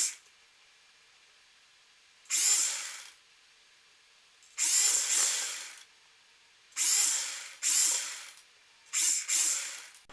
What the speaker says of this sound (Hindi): और इस तरह से हम इसे पूरे में सिलाई लगा लेंगे।